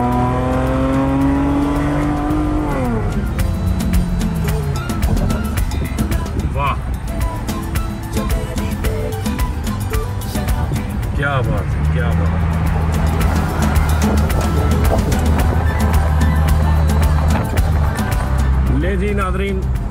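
A Transformers Bumblebee-styled car in Dubai revving its engine repeatedly, loud rising and falling surges with brief pauses between blips, while people talk over it.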